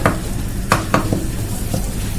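Tamarind water bubbles in a pressure cooker, a close, constant sizzling hiss broken by a few sharp scraping clicks near the start and middle.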